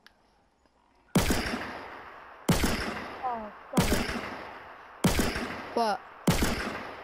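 Gunfire in the video game Fortnite: five loud, sharp shots spaced about a second apart, each with a decaying tail and some with whistling ricochet-like tones, with a brief spoken exclamation.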